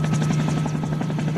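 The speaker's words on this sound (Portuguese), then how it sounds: "É o helicóptero tem jeito chamando, convocando um povo." Helicopter flying overhead, a loud, steady rotor thump with a strong droning hum, continuous and close throughout without speech.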